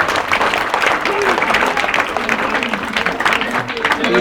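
An audience at a church gathering bursts into sustained applause to thank the father, many hands clapping loudly and densely, with crowd voices mixed in underneath.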